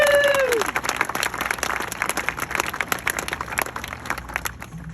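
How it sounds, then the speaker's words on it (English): An audience claps for the parents at a graduation ceremony, with sharp individual claps standing out against the crowd and a faint whistle at the start, sustained for several seconds. "Round of applause for the parents."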